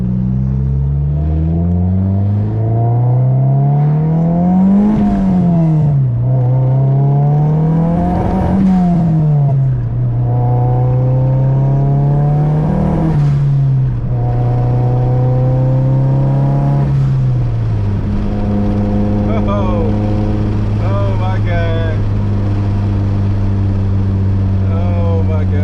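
A turbocharged Honda with a boosted B20 engine swap pulls hard through repeated rising revs and gear changes, loud and close throughout, then settles into a steady drone with faint turbo whistles.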